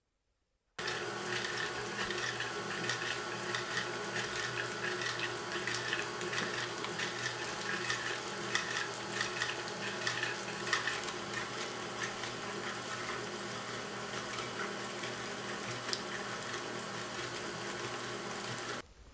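An electric mixer whisks eggs into Oreo cheesecake batter, a continuous, fairly loud motor whir with a busy rattle that starts abruptly and runs unbroken to the end.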